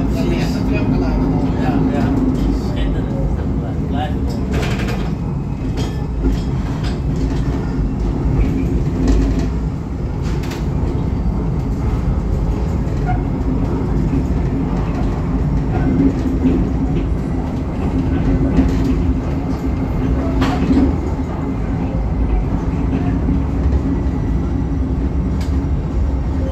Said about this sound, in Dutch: Dat zijn nog de echte tramgeluiden.